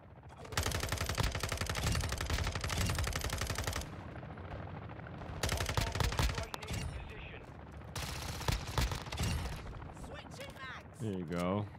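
Bursts of machine-gun fire in Modern Warfare 2, long loud rattling volleys broken by short lulls, with a voice speaking amid the shooting.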